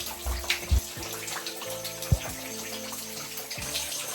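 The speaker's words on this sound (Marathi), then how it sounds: "इथं हे नॅचरली पाणी पडत आहे" Natural waterfall at the Jatashankar Mahadev cave shrine in Ambabarwa sanctuary, Buldhana, water falling onto a Shiva linga; a steady close splashing trickle with a few louder drops and thumps, no voices.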